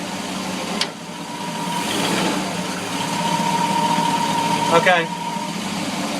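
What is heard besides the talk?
boat engine in gear, stuffing box noise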